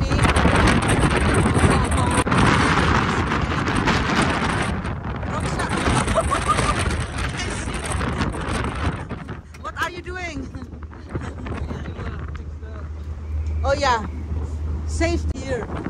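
Strong storm wind from Storm Eunice roars and buffets the microphone at Europoort harbour in the Netherlands, loud and constant, with a person speaking over it; the gusts ease slightly partway through before a low rumble sets in.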